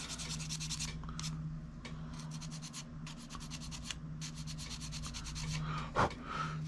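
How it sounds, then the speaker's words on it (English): Steady scratchy rubbing of sandpaper on wood, repeated back-and-forth strokes in a continuous rhythm, close up with a low hum underneath. "I use piece of sandpaper on a square piece of wood"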